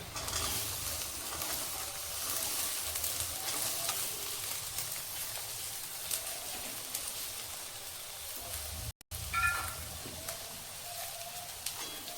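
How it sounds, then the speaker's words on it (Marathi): Carrot, chopped capsicum and peas sautéing in a pan for paneer pulao give a steady soft sizzle with faint stirring scrapes, continuous and fairly quiet, with no talk. "आता हे सर्व एकदा मी चांगले परतवून घेते।"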